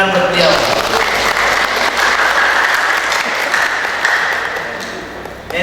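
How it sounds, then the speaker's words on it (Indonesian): An audience at an Indonesian bank community event claps together in loud, sustained applause, with a voice faintly audible through it. "tepuk tangan buat beliau"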